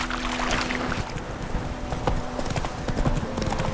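A horse's hooves clip-clop at a steady walking pace in The Witcher 3 video game, close and fairly quiet over a soft outdoor ambience.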